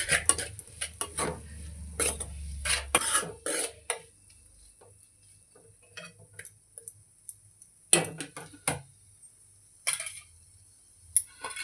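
A spoon scrapes and clatters against a pan while egg curry masala with ginger-garlic paste and salt is stirred and fried, in sharp irregular metallic clinks with quiet gaps, close up, no voices.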